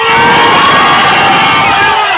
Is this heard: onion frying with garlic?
no